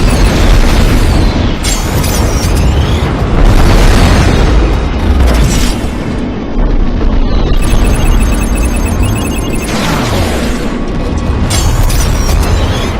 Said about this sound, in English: It can get chaotic when there's so many explosions going off in all directions